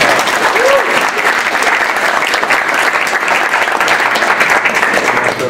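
Steady, dense applause from a tech meetup audience for the panelists, loud and continuous for the whole stretch, with a brief faint voice near the start.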